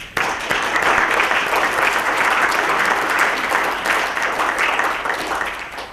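Audience applause welcoming a panel of experts onto the stage at an IEEE industry roadmap event on the future of work, a dense, steady burst of many hands clapping for about six seconds, fading slightly at the end.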